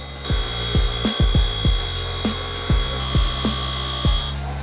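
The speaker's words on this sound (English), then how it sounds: "we can go ahead and just hit this on here and just clean off the paint." A grinder strips paint to bare metal on a coilover sleeve, its steady high motor whine broken by about a dozen short, rhythmic scraping bursts as the tool meets the metal.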